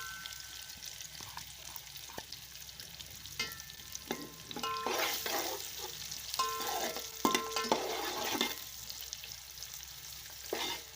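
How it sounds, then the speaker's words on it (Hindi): Onions hit hot oil for a chicken salan, giving a soft, low sizzle under scattered clinks and stirs of a utensil against the pan, heard up close but fairly quiet. "ऑयल गर्म होते ही हम इसमें प्याज डाल देंगे।"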